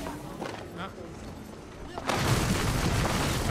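Artillery cannon fire in the Apex Legends video game: a heavy, broadband barrage bursts in loudly midway and keeps rumbling, following quieter game sounds and scattered thumps.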